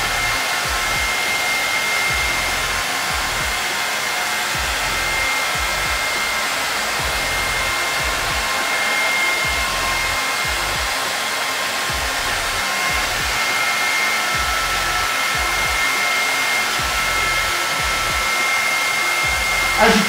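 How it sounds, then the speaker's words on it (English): A hair dryer blowing steadily and loudly at close range as hair is blow-dried with a comb in a barbershop, a continuous whooshing hum broken by faint rhythmic flutter as the airflow moves. "So I'm blow drying the hair where he would hold the comb"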